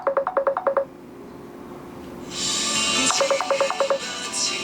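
An indoor telephone call rings in short repeated bursts of electronic tones, two clusters separated by a pause with a hiss of background noise, fairly close and moderately loud with no talking.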